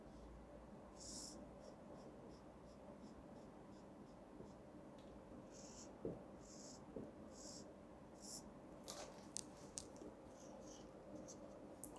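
A pen draws an acceleration diagram on paper, with faint, intermittent scratchy strokes in short bursts against a quiet room hum and no talking.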